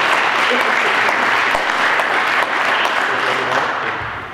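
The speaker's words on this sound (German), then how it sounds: "Auch ihm wollen wir an der Stelle einen Applaus," Audience applause for a retiring local politician at a farewell event in Frankenau, a steady, dense clapping from a hall full of people that fades slightly at the end.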